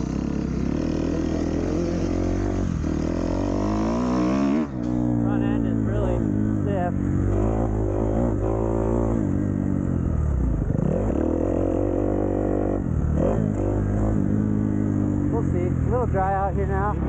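A Kawasaki KX250F dirt bike engine revs and bogs as it is ridden, rising and falling pitch sweeps close and loud, with a rider talking over it.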